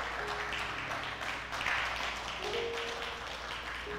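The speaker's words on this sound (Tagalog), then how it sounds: "tuloy natin yung palakpak sa Lord" A crowd claps steadily in a continuous wash of applause, with a faint voice or tone underneath.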